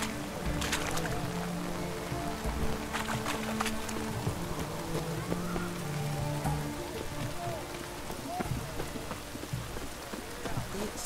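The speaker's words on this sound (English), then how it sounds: "It's raining" Steady rain pattering across the ground in The Witcher 3, a constant even hiss with faint distant sounds and occasional voices beneath it.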